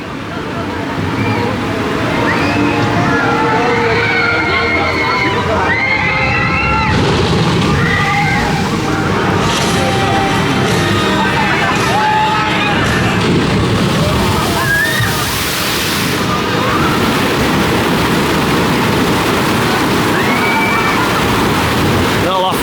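Rapids water ride at Energylandia theme park, with water rushing and sloshing loudly and steadily throughout while nearby voices chatter over it.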